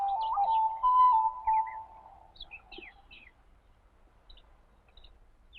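Small birds call in spring, a clear whistled note held for about two seconds and then a scatter of short, high chirps and tweets that grow faint and sparse, with no voices.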